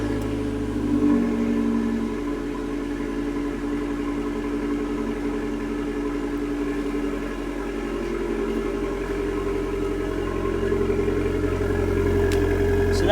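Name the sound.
small Abarth car engine revving on road test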